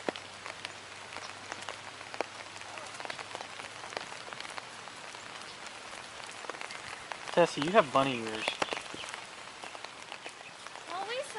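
Light rain patters steadily with scattered drops during horse riding, and a person speaks briefly partway through over the soft background shower.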